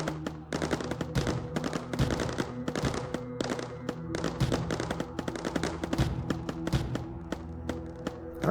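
Rapid, continuous gunfire and sharp impact bursts from units shooting at an enemy in the Mindustry V6 campaign, loud and dense, with steady rhythmic shots under a low droning hum.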